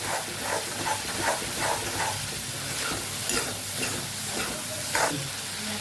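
A continuous hissing sizzle rises from soaked cashews frying with spices in oil, with recurring soft stirring sweeps close by and no voices.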